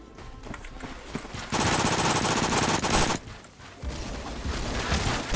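Sustained automatic gunfire from a Roblox Phantom Forces match, a dense roaring burst in the middle between stretches of lighter scattered shots and game noise, loud and continuous with no talking.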